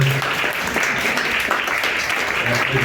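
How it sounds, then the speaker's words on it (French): Theatre audience applauding steadily, a dense even wash of clapping held at constant loudness for the whole stretch. "Applaudissements."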